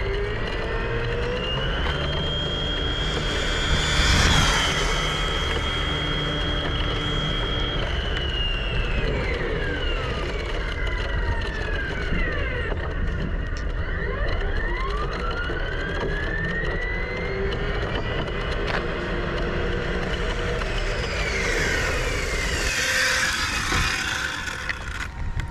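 Hobao GTB RC car on a 6S battery making a speed run, its high electric motor whine sweeping up and down in pitch as it approaches and passes, loud and continuous with Doppler-like shifts throughout.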